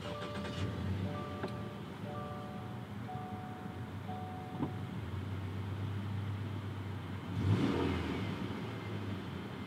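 A 2019 Subaru Forester Sport started by push button from inside the cabin: soft dashboard chimes ring over a low steady hum, then the engine catches with a brief louder surge before settling into a quiet, even idle.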